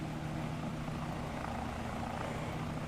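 Mil Mi-8 helicopter in the video game Aeronautica gives a steady, droning engine and rotor roar, continuous and even throughout with no other sounds.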